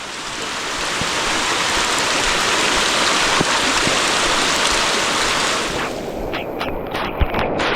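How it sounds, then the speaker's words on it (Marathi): Steady rushing of flowing stream water, loud and continuous, easing slightly near the end as a few splashes and knocks come through. "पाणी बघा किती आहे ओढ्यासारखं पाणी आलं आहे"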